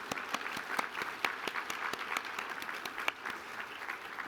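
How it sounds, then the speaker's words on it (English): Conference session audience applauding steadily, a dense wash of many hands clapping with sharp individual claps standing out, sustained without a break. "How about another round of applause for Deputy Mayor Kim?"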